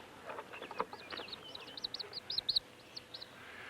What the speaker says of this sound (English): Well, let's just take a look at this here hawk.